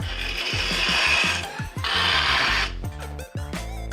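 Steel scriber point on a box trammel scratched along a stone block, a rough rasping scrape in two sustained strokes at close range, followed by lighter handling clatter.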